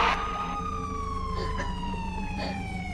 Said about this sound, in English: Alright, enough with the siren.